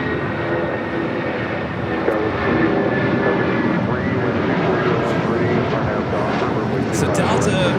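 A jet airplane arriving or departing at LAX rumbles steadily as a broad, continuous engine roar, with people talking over it throughout.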